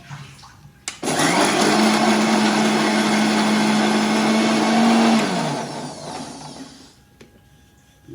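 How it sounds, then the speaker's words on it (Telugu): An electric mixer grinder blitzing chopped green chillies into a paste roars to life suddenly, holds a loud, steady high whine for about four seconds, then spins down and fades as the motor coasts to a stop. "మనం కట్ చేసుకున్న పచ్చిమిరపకాయలను మిక్సీ పట్టుకోవాలి"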